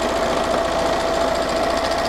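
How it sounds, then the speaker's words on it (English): A sewing machine runs a steady, fast stitch along the edge of a large teepee fabric panel, a loud close mechanical whir with a constant motor hum throughout. "So let's just run a quick stitch through that."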